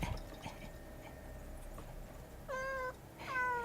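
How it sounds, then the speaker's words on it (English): A house cat meows twice, close and clear, near the end, over a faint indoor background hum with a couple of light clicks. No one speaks. "excuse the cat meowing"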